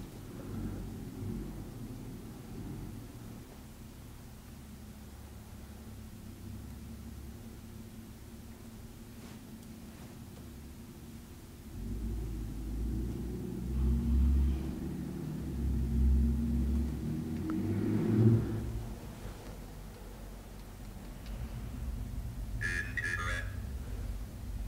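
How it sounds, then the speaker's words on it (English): A truck rumbles outside the old Crown Point Jail at night, heard faintly from inside as a low, steady drone that swells in the second half, with a brief brighter rattle near the end. "So you can hear the truck outside, obviously"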